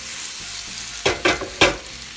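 Peppers and onions sauté in a Lodge cast iron skillet, a steady close sizzle broken by three sharp scraping, shaking bursts of the pan and its contents.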